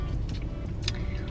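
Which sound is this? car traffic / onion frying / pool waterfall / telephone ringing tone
car traffic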